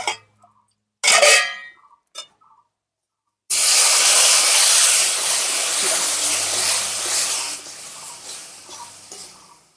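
Water is poured into hot, browned sweetened semolina in a pan, setting off a loud burst of steam hiss and spitting that stays strong and slowly fades, after a few brief stirring scrapes and taps.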